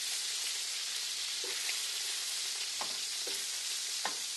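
Chicken frying in a skillet gives a steady, moderate sizzle with scattered faint pops and crackles throughout.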